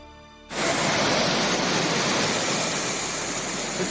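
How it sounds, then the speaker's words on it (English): Steady, loud roar of a waterfall pouring straight out of a mountainside along the Highline Trail in Glacier National Park, beginning abruptly after a brief quieter moment and continuing as a close, unbroken rush. "This waterfall appears to be flowing directly out of the mountain."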